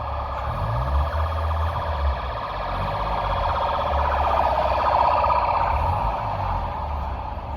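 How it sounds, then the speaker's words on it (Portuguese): An ambulance siren wails loudly and steadily as the vehicle passes close by on the street, its tone rising and falling continuously for several seconds with no talk over it. "Acabou de passar uma ambulância"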